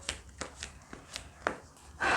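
Tarot cards are shuffled by hand in a series of quick, crisp riffles and slaps at close range, a few evenly spaced flicks ending in a denser rustling burst.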